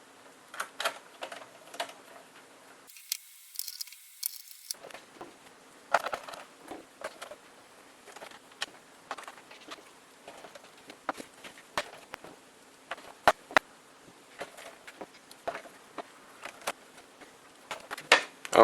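Small screws go into a Dell Vostro 1540 laptop during reassembly, heard as scattered quiet clicks, ticks and scraping of a screwdriver against metal and plastic, irregular and close, with a brief moment of near silence partway through and no speech.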